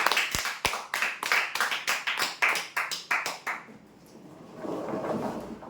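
Applause for winners at a weekly prize draw, starting as a sharp, loud burst of hand claps in fast rhythm, then fading into a softer room murmur.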